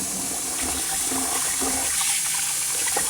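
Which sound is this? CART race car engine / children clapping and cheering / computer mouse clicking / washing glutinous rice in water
washing glutinous rice in water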